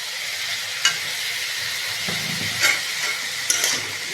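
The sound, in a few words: stirring potato samosa filling frying in a pan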